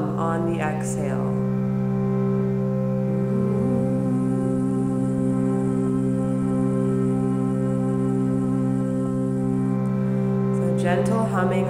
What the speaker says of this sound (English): Gentle humming on the exhalation.